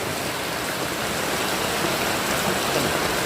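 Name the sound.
gentle medium rain falling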